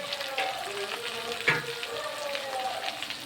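Parotta frying in an oiled pan, a steady close sizzle with soft crackles and one brief sharper splatter partway through, with a voice talking faintly underneath.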